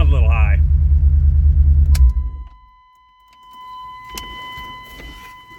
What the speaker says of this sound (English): Got to take that idle down a notch. My tach's not hooked up yet, so I have no way of knowing yet, but it sounds a little high.